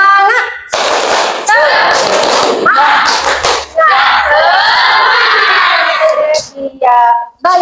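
Classroom group of students in an early childhood psychology lecture doing a 'tepuk semangat' cheer, with loud, dense rhythmic clapping and voices shouting together in unison, in short bursts with brief pauses between them.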